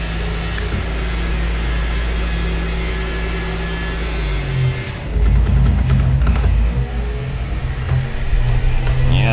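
A racing car engine drones loudly and continuously at Monza in a racing video game, a steady mechanical roar that shifts in pitch partway through and carries on with rattling tones.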